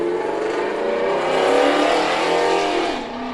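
A car engine revs hard with a loud, throaty exhaust, its note rising through a sustained roar before easing off near the end. It is close and loud, with no talking over it.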